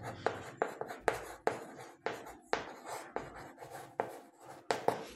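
A teacher writes an answer on paper during a Class 5 maths lesson, pen strokes scratching in quick, uneven bursts close to the microphone with short gaps between words.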